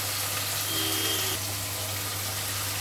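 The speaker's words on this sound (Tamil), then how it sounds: "தக்காளி வதங்கட்டும்" Tomatoes sauté in a pan with a steady, even sizzle and a low constant hum underneath, with no talking over it.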